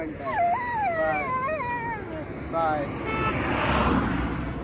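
A dog whines in high, wavering cries, pausing briefly between them, with traffic and voices in the background.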